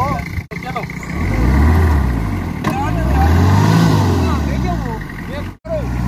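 A jeep stuck in sand during a duck hunting trip, wood placed under its tires, with the engine revving loud and close in long rising and falling surges while someone talks over it.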